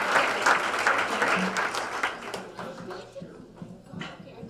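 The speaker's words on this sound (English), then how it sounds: "would we all give a round of applause to our wonderful city" An audience applauds at a Pacifica Chamber of Commerce awards evening in an indoor room, crisp clapping that starts strong and thins out over a few seconds.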